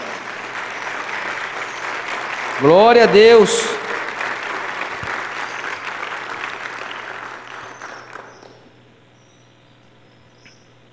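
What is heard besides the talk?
applause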